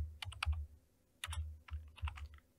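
Keys clatter on a computer keyboard while someone enters labels into an Excel budget spreadsheet, three short close bursts of rapid tapping separated by brief pauses.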